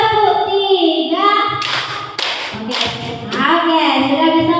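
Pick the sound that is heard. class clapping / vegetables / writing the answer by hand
class clapping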